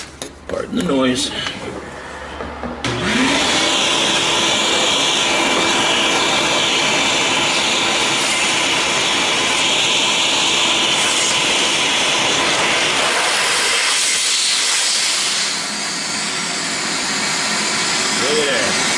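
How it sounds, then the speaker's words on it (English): A shop vac sucks thick gear oil out of an 11-1/2 inch AAM differential, its loud steady motor roar running almost the whole time after a short quieter start, with a voice speaking over it. "So the only other thing I've got is a shop vac."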